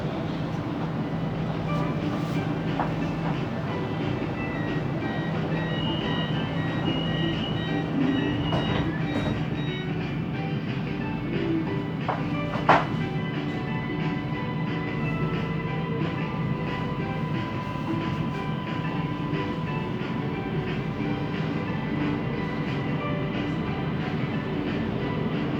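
Steady rolling noise from a Siemens Inspiro metro train riding the SBK Line in Kuala Lumpur, a continuous low rumble with faint wheel hum and a brief clank midway, close and unbroken throughout.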